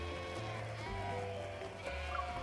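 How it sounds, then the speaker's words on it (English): Sheep bleating in a wooden-fenced pen in the video game Love And Deepspace, several overlapping cries held close and steady over a soft music-like background throughout. "I point at the sheep in the pen who are charging and restlessly bumping into the wooden fence."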